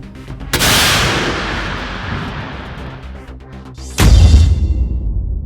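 Two loud explosive blasts from police explosives training, the first sharp bang near the start followed by a long rumbling decay, a second heavy boom a few seconds later, no talk.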